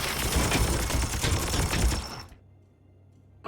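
Soldiers shooting in Warhammer 40,000: Chaos Gate - Daemonhunters let off a dense, rapid volley of gunfire for about two seconds, then it cuts off abruptly into near silence.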